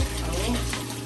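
Water running steadily from a kitchen tap while mutton and yogurt are rinsed for a mutton korma, a continuous close splashing gush with a faint voice underneath.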